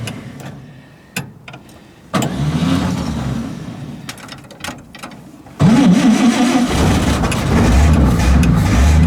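A 1956 Chevrolet Nova with a swapped cam is cold-started on a chilly day: several sharp cranking bursts and catches, then the engine fires and runs loud and rough, not yet idling smoothly.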